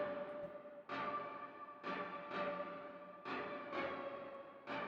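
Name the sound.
verse synth in a remake in FL Studio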